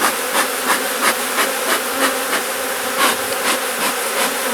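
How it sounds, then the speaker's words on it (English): Honeybees fill a crowded hive box with a dense, steady buzzing hum, close and continuous, with pulsing swells as they move about the brood and honey frames. "This box is right full of bees"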